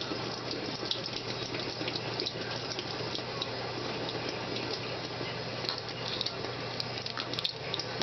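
Cold water streams steadily from a tap, a constant close splashing hiss that carries on without a break.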